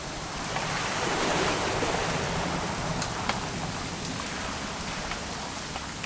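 Steady rain patters densely on surfaces in the video game What Remains of Edith Finch, a constant wash of hiss with a few sharper drips, moderately loud and without voices.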